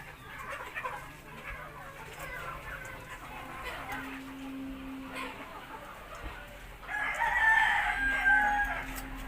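Native chickens cluck and murmur nearby, and a rooster crows clearly toward the end, all at a modest level with faint background noise.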